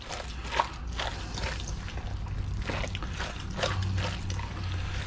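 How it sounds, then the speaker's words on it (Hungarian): A bread roll is crushed by hand into a wet Hungarian meatball mixture, making soft, squelching, squishing sounds in irregular bursts, close up and without talk. "Szépen összetörjük a zsömlét."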